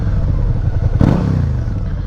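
Yamaha MT-03 660 motorcycle fitted with an Akrapovic exhaust, a deep close engine rumble with one quick throttle blip rising then falling mid-way.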